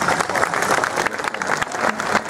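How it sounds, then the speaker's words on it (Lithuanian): An audience at a small-town cultural festival in Lithuania bursts into loud, close applause to welcome guests, a busy crackle of many hands with a few sharper claps standing out, and no speech over it. "Pasitikime plojimais"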